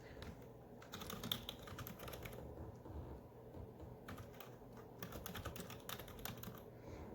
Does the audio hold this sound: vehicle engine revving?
no